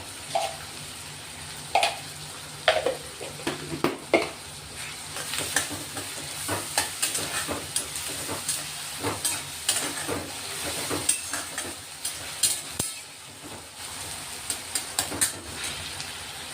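Onions frying in a pan with hing and salt for a quick moong usal, sizzling steadily while a spoon stirs with repeated scraping clicks, close and continuous with no talking.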